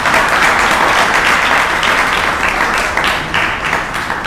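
A crowd applauds steadily for several seconds, dense clapping at a constant loud level, tapering slightly toward the end.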